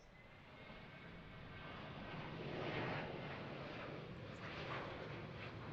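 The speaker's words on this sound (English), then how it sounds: "here comes the U.S. Navy P-8 Poseidon, probably doing a touch and go" A U.S. Navy P-8 Poseidon flying in from Jacksonville, Florida, on a touch and go at Harrisburg: a distant, faint jet roar that slowly swells, peaks near the middle and lingers as a steady rumble.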